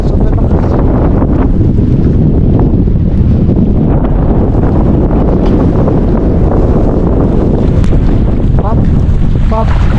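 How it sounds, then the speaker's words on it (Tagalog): Strong wind roars across the microphone on a small fishing boat at sea, a loud constant buffeting blast mixed with water and engine rumble. Someone speaks faintly beneath it. "Lakas ng hangin ngayon."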